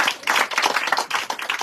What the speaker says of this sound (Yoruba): ẹ jẹ́ á pàtẹ́wọ́ fún Jésù